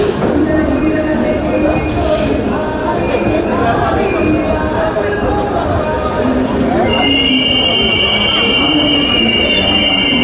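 An Amrit Bharat Express train pulls into a platform at Nagpur Junction, with loud continuous rolling rumble, clattering wheels and high-pitched wheel squeal rising near the end over a busy station background.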